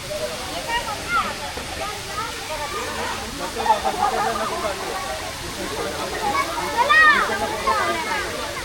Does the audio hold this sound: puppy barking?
no